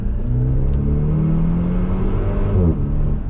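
A Maserati Levante GT Hybrid's four-cylinder turbo engine accelerates hard, a loud, close, steady rising drone that dips briefly near the end as a gear changes.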